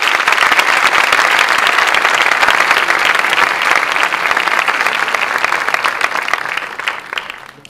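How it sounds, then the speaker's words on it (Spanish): Loud, sustained applause from an audience at a commemorative ceremony, dense clapping that holds steady for several seconds before tapering off at the end. "¡Un fuerte aplauso!"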